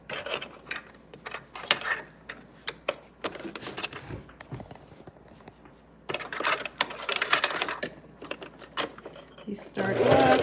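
A sewing machine stitches a dress and backstitches in close, rattling bursts of rapid needle clatter, broken by short pauses and a quieter middle stretch, with a voice talking over it at times.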